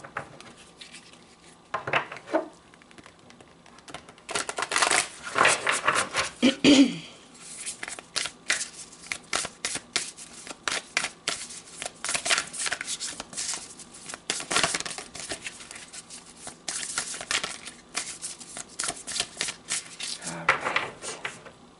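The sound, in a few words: tarot cards being shuffled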